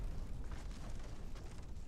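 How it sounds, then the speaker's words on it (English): A delayed secondary explosion in the video game MS Saga: A New Dawn, a low, steady rumbling boom that rolls on for a couple of seconds at moderate level with no distinct sharp onset. "that's a much delayed secondary explosion"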